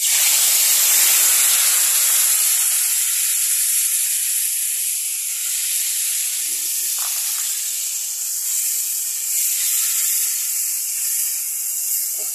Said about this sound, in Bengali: এখন তেলের ভিতরে দিয়ে দেবো যে মশলা